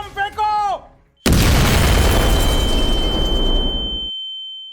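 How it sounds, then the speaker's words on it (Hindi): A bomb blast staged in a devotional play about a dacoit attack at ISKCON Mayapur: one sudden loud boom that rolls on for about three seconds before cutting off, with shouting voices just before it. "हमारे पास तो बम है, बम फेंको।"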